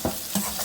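Banana flower curry sizzles and fries in a pan, with a few soft stirring scrapes over a steady hiss, close and brief.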